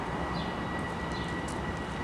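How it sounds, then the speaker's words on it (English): A train passes at a distance as a steady, dense low rumble with constant broadband roar, faint and unbroken, while birds chirp faintly above it. "Now there's a train going by."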